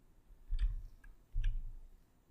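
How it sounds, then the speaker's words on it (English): A computer keyboard's Enter key being pressed, two soft distinct key clicks with dull low thumps, close and quiet with no talk. "Finally, I press the Enter key."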